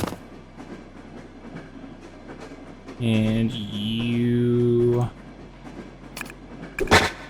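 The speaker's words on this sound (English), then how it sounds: "you can exit the train" A train in the TMNT Tactical Takedown video game gives a loud two-second rumbling, screeching surge amid game effects, with someone talking briefly over it.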